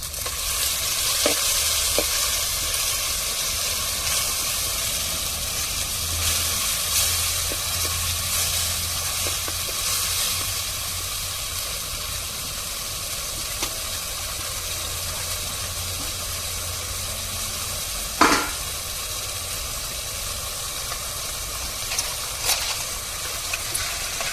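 Stone-ground ginger-garlic paste hits a hot pan for crab soup, producing a loud, steady hiss of sizzling oil that runs throughout, broken by a couple of brief metallic clanks near the end.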